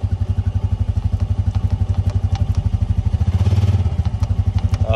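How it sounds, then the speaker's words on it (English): A 2020 Polaris Slingshot P5 idles with a steady, rapid engine pulse, close and loud, as the automatic transmission downshifts in manual paddle mode, the drone briefly swelling and thickening midway before settling back. "that was the automatic downshift"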